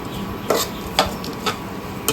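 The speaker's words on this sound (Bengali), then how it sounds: "ব্রেকফাস্টে মা আজকে চিড়ে ভাজছে।" Flattened rice (chire) frying in a pan, with a spatula scraping and knocking against the pan roughly every half second over a soft background hiss.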